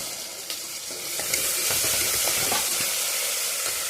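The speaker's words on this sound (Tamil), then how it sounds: "வெங்காயம் நல்லா வதங்கட்டும். வெங்காயம் நல்லா வதங்கிடுச்சு. தக்காளி பச்சை மிளகாய் போட்டுக்கலாம்." Onion, tomato and green chilli frying in a pan for a cabbage meat gravy, giving a steady close broadband sizzle that swells after the first second, with faint scrapes and clicks and no talk.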